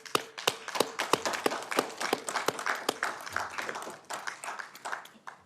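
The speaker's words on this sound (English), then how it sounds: "I want to just give you a quick round of applause." A Sacramento City Council meeting audience gives a quick round of applause, many hands clapping in a dense, irregular burst that stays steady and close before thinning slightly toward the end.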